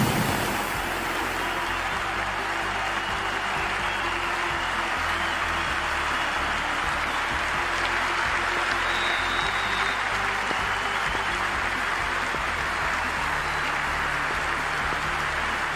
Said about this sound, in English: the crowd is making plenty of noise for the opening game